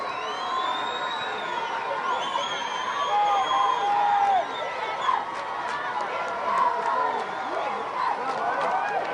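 Crowd cheering at a 1999 youth midget football championship game, Santa Clara versus Oak Grove: a steady wash of distant cheers and shouts from the stands, with a whistle-like tone and scattered voices throughout.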